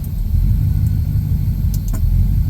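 A running 1967 Pontiac Catalina engine idles with a steady, loud low rumble close by, a faint whine from a possible alternator riding over it, and a couple of small ticks near the end.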